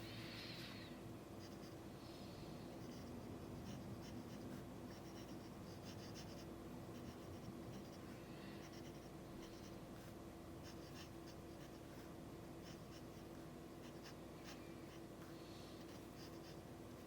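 Pencil drawing a superhero face on paper: continuous soft scratching and stroking over quiet room noise, with short repeated strokes throughout.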